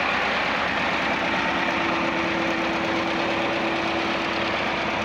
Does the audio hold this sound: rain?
no